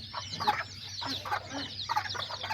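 Kikiriki hens and roosters cluck and call close by in repeated bursts, several birds overlapping in a busy farmyard chatter.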